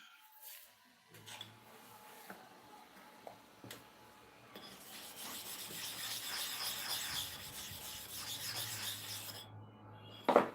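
Steel clipper blade being ground and sharpened against a stainless surface, giving a steady rasping, rubbing scrape that builds to a louder continuous grind for several seconds before a sharp clack at the end.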